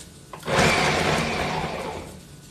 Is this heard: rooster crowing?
no